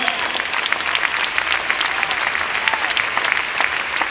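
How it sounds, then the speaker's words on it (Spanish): Loud, dense applause from a church congregation, steady clapping throughout with no pause. "Dale ese aplauso, déselo fuerte."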